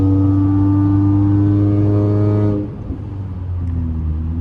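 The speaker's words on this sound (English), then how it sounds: "Let me press the gas a little bit." A catless Toyota Camry engine holds a steady, loud rev with deep harmonic drone, then drops off abruptly partway through and settles to a lower idle.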